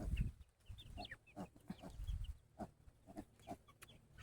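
Silkie chickens clucking on a farm, with short bright calls and chirps scattered across the moment over a low rustling background, close by and fairly loud.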